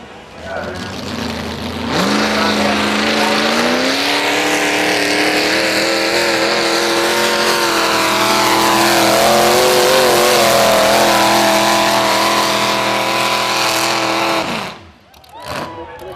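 A tractor-pull machine powered by two rotary engines roars loudly and steadily at close range, its harmonic engine note rising and falling across a sustained pull before cutting off near the end.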